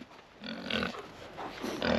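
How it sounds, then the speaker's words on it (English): Pigs on a homestead grunt and snort close by in a few short bursts. "And hello, piggies. How are you?"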